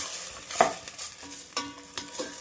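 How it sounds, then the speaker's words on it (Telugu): Masala for chicken biryani fries in a hot pan while a spoon stirs it, giving a few distinct scraping strokes over a soft sizzle, close and without any voices. "ఇది కాసేపు వేగనివ్వాలి."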